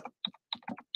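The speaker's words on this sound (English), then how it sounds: "So first I typed in Curious World" Quick keystrokes on a computer keyboard, four or five close, crisp clicks in an uneven rhythm over about a second, typing a search into a browser.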